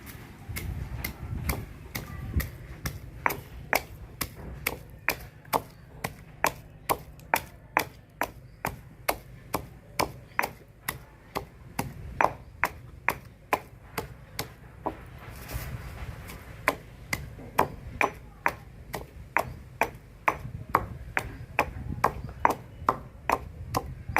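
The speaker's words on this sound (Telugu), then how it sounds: "ఇక మనం కొంచెం రోట్లో నూరుకోవాలండి ముందు చిన్నులపాయలు నూర్చుకుందాము" Small onions pounded in a stone mortar, a long run of sharp, evenly spaced thuds and knocks repeating about twice a second, close and clear with no talk.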